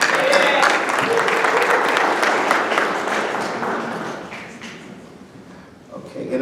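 An audience at a holiday press conference applauds, a dense burst of clapping that is loud at first and gradually thins and fades, with a few voices near the end.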